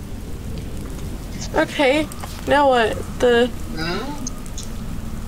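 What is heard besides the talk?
thunderstorm rain and thunder in a video game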